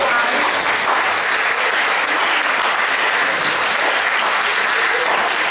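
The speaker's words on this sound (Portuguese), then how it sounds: "Eu penso que eles merecem uma salva de palmas." Applause from an audience at a healthy-eating workshop fills the room, a dense, even wash of clapping held steady throughout without a break.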